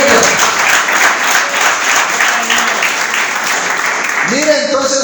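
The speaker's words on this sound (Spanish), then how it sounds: "¿Cuánto le damos aplauso a Jesucristo?" Dense applause from a church congregation fills the room steadily and evenly throughout, with a voice beginning to speak over it near the end.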